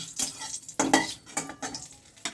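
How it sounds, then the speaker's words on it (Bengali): More mustard oil goes into a frying pan that already holds oil left from frying eggplant, giving a soft sizzle broken by several sharp clinks and scrapes of a utensil against the pan. "এই রান্নাটা আমি পুরো সর্ষের তেলে করছি এখানে ভাজার পর বেগুন ভাজার পর যে তেল রয়েছে তার মধ্যে আমি আরেকটু সর্ষের তেল দিয়ে দিচ্ছি"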